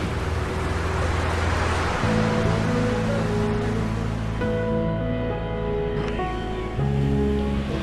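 Small waves wash against a boat at sea off the remote Johor islands near Pulau Dayang, a continuous loud rushing under a droning engine hum that shifts pitch.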